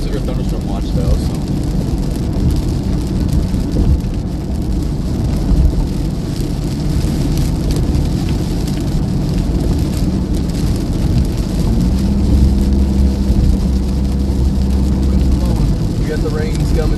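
Rain and rolling thunder from a severe thunderstorm in southwest Iowa farm country, with steady broadband rain noise throughout and low rumbles building near the end, while a voice talks over it.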